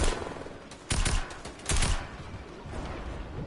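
Bursts of rapid gunfire in Fortnite, two loud volleys among scattered shots over a busy background.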